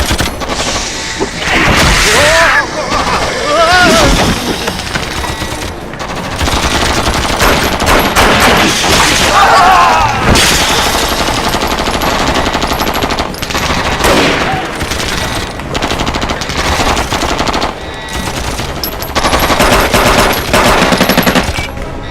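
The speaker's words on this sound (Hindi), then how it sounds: "छोड़ना मत, शूट करते रहो। शूट कर रहे हैं पूरी तरह से।" Sustained machine-gun fire and heavy gunfire in a loud movie battle scene, rapid bursts rolling almost continuously with booming impacts and crashes layered throughout.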